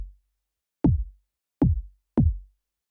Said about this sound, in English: Okay, so that sound is just made by turning on a bunch of oscillators,